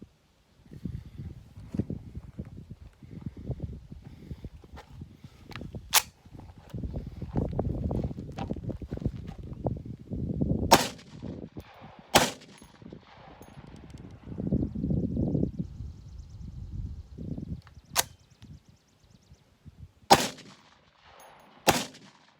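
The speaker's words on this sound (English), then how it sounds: "that's the best 4-shot group I've ever fired" Model 81 rifle fired outdoors, several sharp shots spaced apart across a windy, rustling background with footsteps and handling noise.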